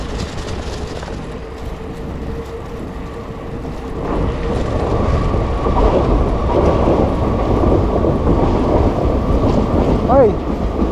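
A Singapore MRT train rumbles past, a low steady roar that swells noticeably partway through and stays loud, with a brief rising squeal near the end.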